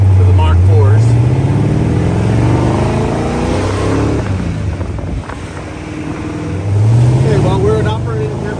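A 1986 AC Cobra Mk IV V8 rumbles at low, mellow revs while driving around town, with rising and falling engine pulls, wind buffeting and a person speaking over the steady drone.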